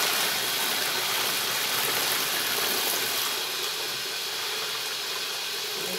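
Water pours steadily from a bucket holding about 11 liters into a container, a continuous broadband splashing rush that stays loud and even throughout, with no talking over it.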